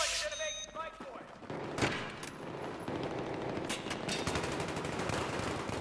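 Rapid automatic gunfire in a team deathmatch shooter, dense bursts and sharp shots crowding the whole stretch at steady loudness, with no voice over it.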